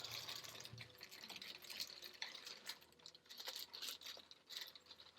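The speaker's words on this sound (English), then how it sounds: "Let's go ahead and put our soil into our pot." Moist potting soil being poured into a plant pot for a herb kit, a soft scraping, rustling pour with gritty bursts that come and go, close and quiet, with no talking.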